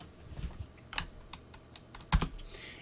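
Keystrokes on a computer keyboard as a terminal command is typed, a sparse run of separate clicks with a louder cluster of taps near the end, close and without talk.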